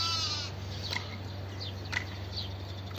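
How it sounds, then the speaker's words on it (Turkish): Faint, somewhat distant bleats from a flock of 44 Sakız sheep with lambs on a farm, a couple of short calls over a steady low electrical hum. "Koyunlarım satlık. 44 tane koyun."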